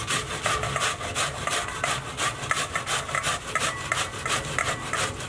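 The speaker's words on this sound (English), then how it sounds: "get one brown onion, and we just want to grate it on the coarse side" A brown onion is rubbed over the coarse side of a grater in quick, regular strokes, a close rasping sound repeated about twice per second, with no speech.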